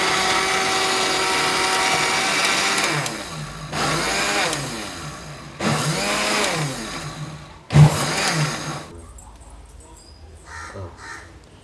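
A mixer grinder's ordinary jar blends arugampul grass into juice in several loud bursts, each with the motor's pitch rising and falling, separated by brief pauses; quieter clatter remains at the end.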